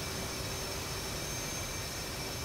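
A steady, dense roar of an F/A-18C jet engine in DCS, with a constant whine running through it and no talk over the short stretch.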